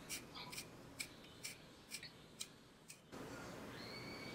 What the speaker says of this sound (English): It's a perfect sharpener for sharpening your pencils.